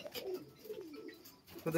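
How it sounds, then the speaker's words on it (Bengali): Many pigeons, close to three hundred low-flying tumbler birds, coo together inside a large cage, a soft overlapping murmur with a slightly louder burst near the end. "এখানে প্রায় 300-র কাছে পায়রা আছে।"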